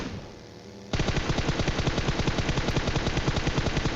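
Automatic gunfire in a battle royale video game, a rapid, even burst of shots that starts abruptly after a quieter moment and keeps hammering steadily and loudly to the end.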